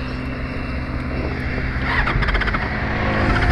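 A Benelli 600i motorcycle fitted with a Scarpion exhaust idles, then its engine rises into a louder, rougher rumble close by, with a throaty exhaust note that builds over a few seconds.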